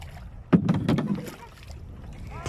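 Kayak paddling on the water at Rafisah Dam: a single close splash and swish of a paddle stroke, followed by softer water wash and light wind rumble.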